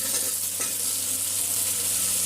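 Potatoes stirred into boneless chicken curry in a pan, a brief dense sizzle with a spoon scrape, close and steady, no voices.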